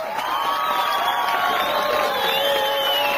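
A crowd cheers and whoops with bright, rising voices, given as a round of applause and cheering; steady and fairly loud for the whole stretch, with no clear clapping standing out.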